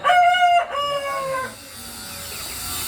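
A rooster crows once, loud and near, in a drawn-out harmonic call at a town poultry farm, followed by faint background noise.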